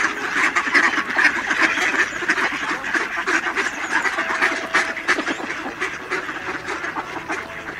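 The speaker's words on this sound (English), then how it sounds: "So many ducks today." Many ducks quack together in a dense, continuous chorus close by, calls overlapping throughout with steady outdoor noise beneath and no one speaking.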